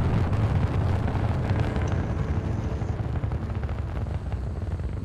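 Call of Duty Black Ops 2 rocket launch roars as a loud, continuous, rumbling blast that holds its power for the full five seconds.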